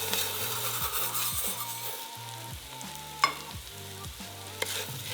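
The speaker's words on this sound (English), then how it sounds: "And give that a nice stir." Dry orzo pasta stirred in oil and butter in a pan, close, rhythmic scraping strokes over a soft sizzle, with a couple of sharp knocks and no talking.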